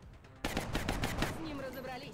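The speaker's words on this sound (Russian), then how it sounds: "Первый выстрел. Второй выстрел." A sudden burst of gunfire in the tactical game XCOM: Long War starts after a brief quiet, several rapid loud shots close together, then a ringing, echoing tail.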